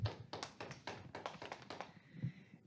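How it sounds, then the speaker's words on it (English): Meeting participants applaud: a short burst of scattered clapping from several people, a few seconds long, faint and fading out at the end, with no talk. "another round of applause"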